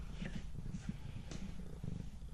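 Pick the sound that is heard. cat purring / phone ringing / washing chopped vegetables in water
cat purring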